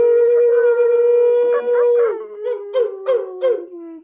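People's voices imitate a wolf howl: a long sustained tone that slides lower, then a series of short rising and falling howling yelps, loud and close.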